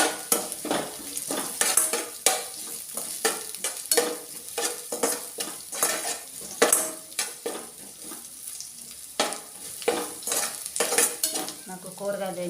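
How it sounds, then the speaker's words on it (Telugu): Onion and curry leaves fry in a pan while a utensil stirs and scrapes against the metal in quick repeated strokes over a steady, close sizzle. "ఆనియన్ వేసాక కరివేపాకు వేస్తున్నాను."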